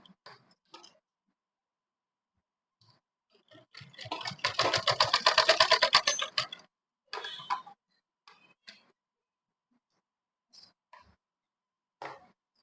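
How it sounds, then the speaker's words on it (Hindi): A sewing machine stitches a diagonal seam on a kurti in one rapid, close burst of mechanical clatter lasting about two seconds, surrounded by quiet pauses with scattered clicks and handling of fabric. "इस तरीके से ये तिरछी सिलाई लगा लेना है, एक दो बार और फिर दोबारा लगा ले ताकि मजबूत हो जाए सिलाई"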